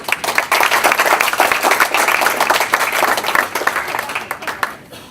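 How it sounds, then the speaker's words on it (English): Audience applause at an Eid Bayram lunch event, a loud burst of many hands clapping with crisp individual claps, sustained before tapering off near the end. "Let's give them a round of applause."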